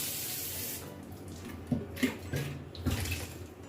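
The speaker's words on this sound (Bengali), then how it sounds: "ধুয়ে ধুয়ে জল ভরে নিই।" Tap water runs into newly bought bottles being rinsed and filled, a steady close splashing stream with a few brief clunks of the bottles, no talking.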